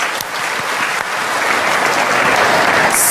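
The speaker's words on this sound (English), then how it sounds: "please give another round of applause for our young generation and their wonderful performance" Audience applause at a 2009 event in Jakarta, Indonesia: a dense, steady wash of clapping from a large crowd that holds loud and even throughout.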